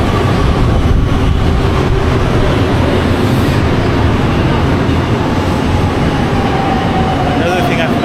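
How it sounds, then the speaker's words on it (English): Beijing subway train arriving at a station platform, a steady loud broadband rumble and rush of air with a faint rising whine and light clatter throughout. "as the train is coming, the air is blowing, no smell."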